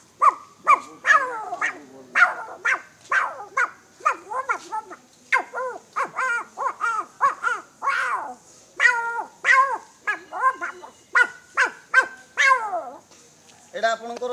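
A human voice imitates a blend of jackal howl and dog bark, a rapid string of loud barking yelps and rising howl-like cries, close and continuous with brief pauses.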